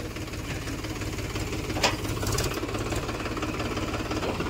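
A tractor engine runs steadily near the Ganges while towing another tractor that got stuck, a continuous low rumbling drone with a brief higher clatter partway through.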